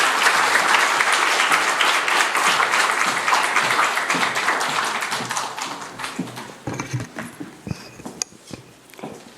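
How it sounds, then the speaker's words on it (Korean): A church congregation at a Good Friday prayer meeting welcomes a speaker with loud applause. The clapping is dense and sustained, then thins out into scattered individual claps near the end. "큰 박수로 다시 한번 환영해 주시면 감사하겠습니다"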